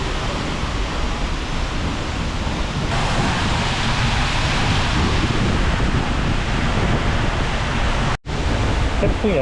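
Strong wind roars and buffets the microphone near Vik in Iceland, a loud, unbroken rush of noise with one brief dropout near the end.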